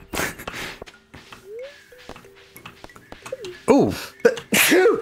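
A single person sneezes loudly near the end, with a sharp intake and burst, over light game sounds and brief talk from players.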